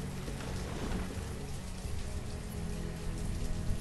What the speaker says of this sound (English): It is a thunderstorm, but that's alright.